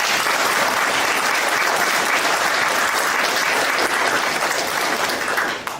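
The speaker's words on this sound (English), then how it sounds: "give a big applause to all the students" Sustained applause from a large audience at a college orientation program, loud and even throughout, tapering slightly at the very end.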